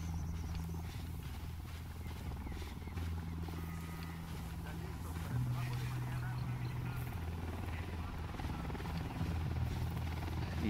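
A helicopter in Ghost Recon Wildlands thrums with a steady low rotor drone and engine hum at moderate distance, holding constant with a slight rise partway through.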